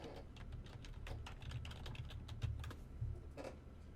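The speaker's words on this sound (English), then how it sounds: "type in BMI calculator." Quick, steady key clicks from a computer keyboard as a search phrase is entered, close and fairly soft, alone without speech.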